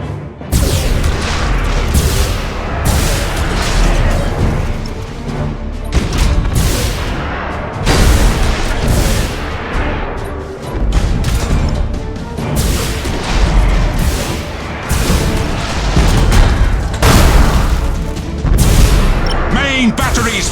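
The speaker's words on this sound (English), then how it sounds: "Main batteries, fire!" Warship main batteries fire in the Battlefleet Gothic Armada 2 video game, a loud, dense barrage of heavy booms and crashing blasts rolling on without pause.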